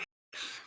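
A single sharp sneeze-like burst, close and fairly loud, follows a brief earlier puff of breath and a moment of silence.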